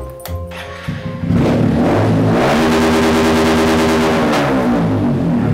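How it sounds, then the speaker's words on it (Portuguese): A car fitted with a loud aftermarket exhaust starts up, then revs hard and holds a steady, booming drone, very close and loud. "Colocando esse escapamento barulhento, meu problema vai acabar."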